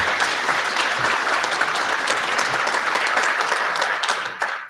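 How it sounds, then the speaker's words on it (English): Sustained applause from a crowd at a homeowners association board candidates forum, dense steady clapping that holds at full strength and then starts to thin out near the end. "Let's have a nice round of applause for our candidates."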